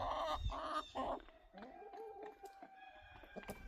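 Hens and a rooster on a homestead at feeding and watering time, several close, loud bursts of clucking at first, then softer drawn-out murmuring clucks and calls with small rustles in between.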